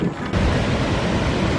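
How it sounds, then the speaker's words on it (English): River water rushes over a mill spillway on the New River near Fries, Virginia, a loud, continuous roar that swells up after a brief quieter moment. "the spillway is doing quite well. It's a lot of water coming downstream."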